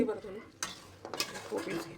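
Soft scraping and clinking of a spoon stirring a mixture in a pan over a low flame, a few brief strokes over a faint sizzle.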